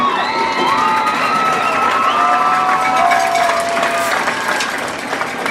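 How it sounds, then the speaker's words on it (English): Spectators at a Muleshoe Mules vs. Clyde Bulldogs high school football homecoming cheer and clap loudly for the homecoming court, with shouts, whoops and shrill voices rising over continuous applause throughout. "please give a round of applause for all of these hard-working young ladies"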